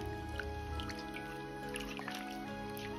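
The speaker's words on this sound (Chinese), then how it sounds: "所以要倒入清水清洗一到两遍，" Pickled mustard greens for sour fish soup are rinsed in a basin of clean water, giving soft drips, squishes and light sloshing beneath steady background music.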